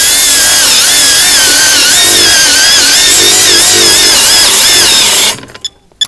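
A Procraft PWA216 brushless cordless angle grinder runs at its low-speed setting with a loud, steady whine for about five seconds, then cuts off abruptly, leaving a few faint clicks.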